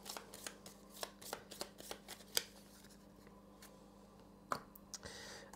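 Cards from the Power Grid board game are shuffled by hand in a quiet room, soft riffling taps and flicks in short irregular bursts, with one sharper snap near the end.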